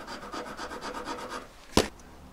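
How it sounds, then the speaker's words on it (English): Hand file working back and forth on a metal ring being opened up for a single stone setting, a series of rhythmic rasping strokes, then one sharp louder knock near the end. "I'm filing and I'm pulling weight this way, pushing it that way."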